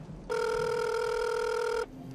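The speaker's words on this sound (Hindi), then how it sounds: "तभी इंस्पेक्टर खान के मोबाइल पर एक कॉल आता है।" A mobile phone rings for an incoming call: one sustained electronic ring tone starts abruptly, holds for about a second and a half, then cuts off, sounding close over a quiet background.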